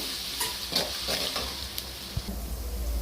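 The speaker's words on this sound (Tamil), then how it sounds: "இப்போ நம்ம இஞ்சி பூண்டு பேஸ்ட் போட்டுக்கலாம். அது கொஞ்சம் லைட்டாக வணங்கட்டும்." Ginger garlic paste frying in an onion gravy for chicken, a steady close sizzle with stirring scrapes of a spoon in the pan and a few light knocks.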